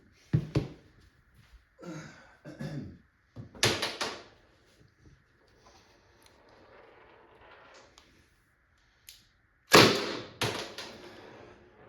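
A Byrna SD less-lethal launcher fires a string of sharp, percussive shots, loud and close, spaced a second or more apart, with a soft mechanical hiss and clatter between some of them.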